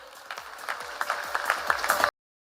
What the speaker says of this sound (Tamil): உங்கள் அனைவரின் பலத்த கரகோஷத்துடன்